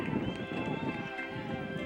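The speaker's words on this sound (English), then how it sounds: "This is a good horse right here." A horse at a show, hooves clip-clopping steadily alongside a whinny, amid a noisy arena hum with crowd and voices in the background.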